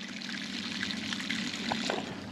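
Water drains from an ultrasonic cleaner tub used for engine parts, a steady close trickling pour with a few gurgling splashes near the end.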